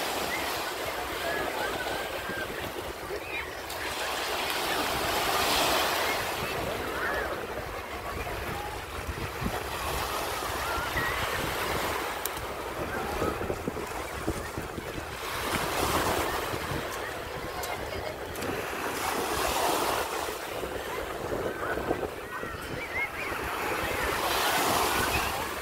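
Strong surf surges and crashes on a sandy beach, sets of waves swelling and breaking in a steady roar with wind over the microphone and occasional voices in the background.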